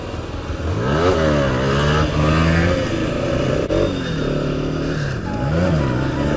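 A Yamaha R15 V4 motorcycle with a bald rear tire revs hard through a wheelie, its engine note loud and close, climbing and falling in repeated sweeps with no pause and no voices.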